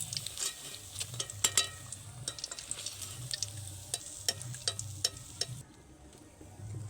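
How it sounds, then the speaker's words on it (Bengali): Bread pakoras fry in hot oil with a steady close sizzle. Crisp crackles and occasional utensil clicks run through it, and the sound drops to a quieter hiss near the end. No one speaks. "ব্রেডগুলো বেশ লালচে লালচে কালার করে ভাজা হয়ে গেছে।"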